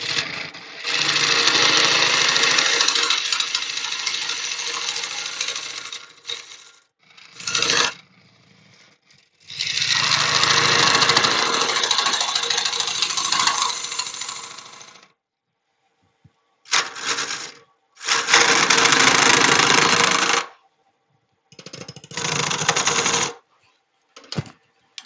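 A power sander works a Sri Lanka rosewood incense holder in loud, harsh bursts, several long runs broken by short pauses and quick touches against the wood.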